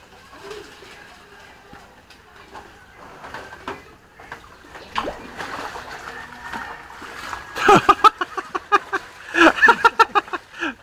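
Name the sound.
floodwater splashing in a flooded house during typhoon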